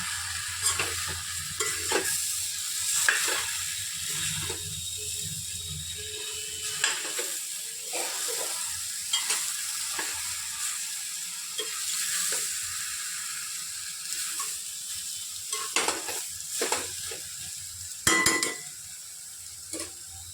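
Taro stems and hilsa fish being stirred and fried in a pan, with a continuous sizzle broken by repeated scraping and clinking of a spatula against the metal, close and fairly quiet.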